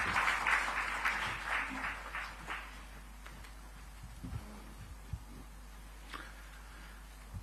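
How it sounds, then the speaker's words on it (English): Applause from a crowd at a media summit, loudest in the first couple of seconds and then fading to scattered claps and faint room noise. "let's invite him onto the dais with a big round of applause"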